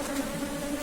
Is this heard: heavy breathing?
no